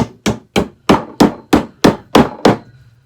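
Nine crisp hammer blows knock a drawer of a Walmart Queer Eye Farnsworth mid-century modern dresser into place, close and loud with a woody ring, at a brisk, slightly uneven pace.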